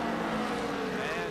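NASCAR stock cars roar around the track at the 1983 Carolina 500, a sustained loud engine drone with shifting pitch from several cars, heard under a broadcaster's commentary.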